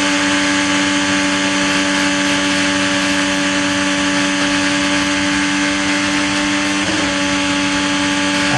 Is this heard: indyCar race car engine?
yes